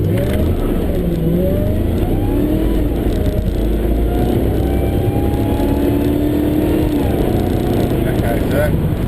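Accelerating at just over half throttle with its tyres spinning, a supercharged 355 VQ Holden Statesman with a 2.4 Whipple blower gives a loud, close engine note that climbs and wavers in pitch, with a rumbling exhaust beneath.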